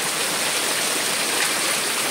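Heavy rain pours outside during a downpour in Chhattisgarh, a steady dense hiss with no breaks and no talking.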